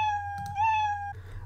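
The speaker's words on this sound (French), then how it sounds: "je peux ajouter du son, jouer le son miaule" A cat meow sound effect plays in the Scratch programming environment: one clear, sustained meow with a rising inflection, moderately loud, over a low background hum.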